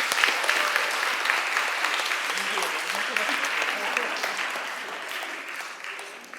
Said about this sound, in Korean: 우리 박수 한번 보내주시죠.